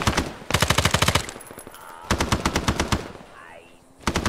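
An M60 machine gun fires in Arma 3's Vietnam War setting, with loud, close rapid bursts, one long burst, a second long burst, and a short final burst, separated by brief pauses.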